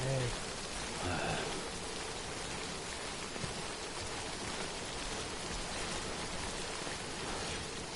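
Steady rain falls in the video game Death Stranding, a dense continuous hiss that runs evenly through the whole stretch, with a voice briefly audible early on.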